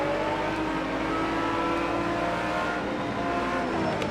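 A car engine in the racing game Project Cars 2 hums and revs continuously, its pitch shifting slightly as it works through the gears, loud and unbroken with no talking.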